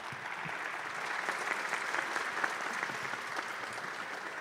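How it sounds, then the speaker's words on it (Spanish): An audience at an academic panel on interdisciplinary education applauds the speakers with even, sustained clapping that sounds somewhat distant and carries on without talk. "Un aplauso para ellos, por favor."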